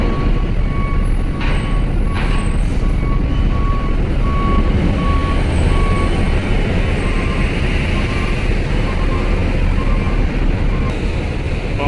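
Vehicles unloading from a ferry onto the dock at Bakauheni port, with a loud steady engine rumble, truck reversing beeps and a constant mechanical roar, near and continuous.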